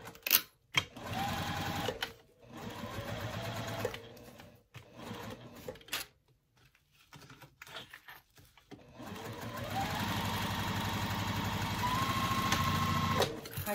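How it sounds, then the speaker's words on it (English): A sewing machine stitches up the side of a homemade tote bag, running in long steady bursts with a short pause and quieter handling in the middle before a sustained run to the end. "I'm going to sew up the other side as I ponder my dilemma."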